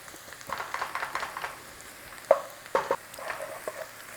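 Onions fry in a pan with bacon and potatoes, giving a soft, steady sizzle with scattered crackles and a few sharper pops and stirring clatters.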